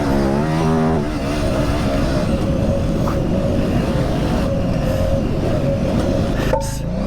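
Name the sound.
KTM 950 Super Enduro motorcycle accelerating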